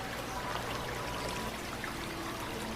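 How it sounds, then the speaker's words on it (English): Water poured onto a rock while an axolotl aquarium is filled, a steady continuous splashing stream that stays even throughout, with no voices. "I always make sure the water is hitting a rock so it's not disturbing the sand."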